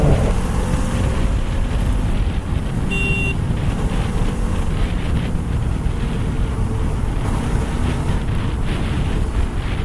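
A Bajaj Dominar motorcycle ridden at full power, its engine droning steadily under heavy wind rush across the microphone, with no talking.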